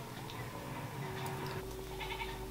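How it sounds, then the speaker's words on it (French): A goat bleats from inside a neighbour's trailer nearby, a few faint, wavering calls standing out over a steady low background hum. "Me dis pas que le mec il a une chèvre dans sa remorque quand même"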